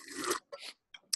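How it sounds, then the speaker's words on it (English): A wet, raspy slurp through a straw, a longer pull followed by two shorter gurgling sips, close and fairly quiet. "It sounded like you were using a straw from McDonald's to slurp up"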